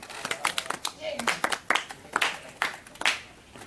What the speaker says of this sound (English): let us clap hands for Kuzai